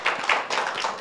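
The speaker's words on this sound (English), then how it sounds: "Clap for me." A church congregation claps together during a sermon, a dense, steady patter of many hands that swells in a few rough waves over one second, with no voices.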